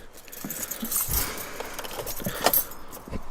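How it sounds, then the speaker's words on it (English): Car keys jangle and clink as a key goes into the ignition of a Mk6 Golf GTI, a close, light metallic rattle in short bursts inside the quiet cabin. "put the key in ignition quick"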